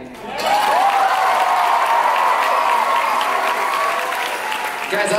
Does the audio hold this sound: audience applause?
yes